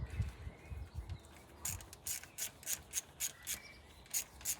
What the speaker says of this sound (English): I may as well just tighten this breather up actually